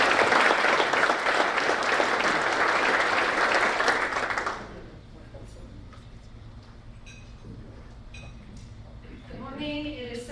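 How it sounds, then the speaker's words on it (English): Applause from a meeting audience fills the opening seconds as a dense, steady patter, then cuts off sharply, leaving quiet room tone with faint clinks and a voice starting to speak near the end. "So can we get a round of applause for Michelle?"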